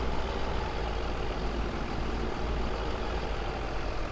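A large tractor in Farming Simulator 2017 runs as a loud, steady engine rumble with dense noise, holding constant throughout without pauses or talk.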